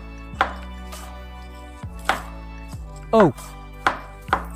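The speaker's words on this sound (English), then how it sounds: "Apple cubes. Don't cut them too small or they'll disappear." A knife chopping apple into cubes on a cutting board, five or six sharp, close knocks at irregular intervals with faint ringing, and one short exclaimed voice partway through.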